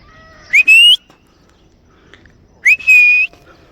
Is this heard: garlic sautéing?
no